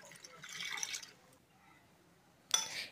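Water poured into a pan of mixed vegetables with Malabar spinach stems, a splashing pour that fades out and then starts again more sharply near the end, with no voices.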